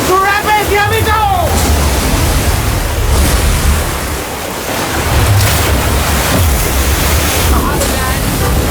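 Whitewater rapids roar in a steady, loud, broadband rush while a boat races through them. Wind buffets the microphone throughout and a voice briefly shouts at the start.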